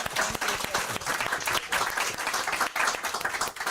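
An audience claps for a 2025 scholarship recipient at a law school alumni giving campaign launch, dense steady applause filling the room with a few faint voices beneath.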